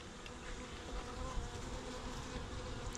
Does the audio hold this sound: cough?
no